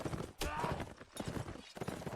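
Horse hooves pound in a medieval battle video game, a fast, dense galloping clatter with a loud, busy mix of other game noise.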